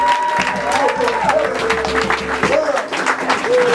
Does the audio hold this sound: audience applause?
yes